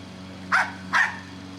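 A dog in a backyard square-foot garden gives two sharp, separate barks about half a second apart, close and clear above a steady low hum.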